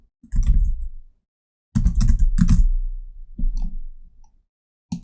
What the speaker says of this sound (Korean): 원하시는 글씨를 타이핑할게요